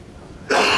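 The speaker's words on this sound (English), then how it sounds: "Excuse my a little dry cough here." A short, dry cough from someone speaker who is recovering from a cold, one abrupt loud burst after a quiet moment.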